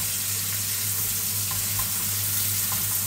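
Shrimp dropped into a hot pot for sinigang na hipon, a steady loud sizzle with a constant low hum underneath and a few faint clinks, no voices.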